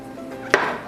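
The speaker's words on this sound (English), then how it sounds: "Cut these little mushrooms into quarters." A single crisp knife chop on a cutting board while small mushrooms are cut into quarters, one sharp close tap in an otherwise quiet kitchen.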